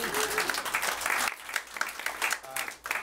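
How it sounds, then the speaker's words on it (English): An audience at a musical theater festival presentation applauds, a full, steady round of clapping with a brief dip midway, heard alone without speech. "Sure, you may applaud."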